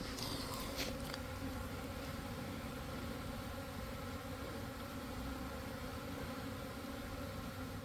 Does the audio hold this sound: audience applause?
no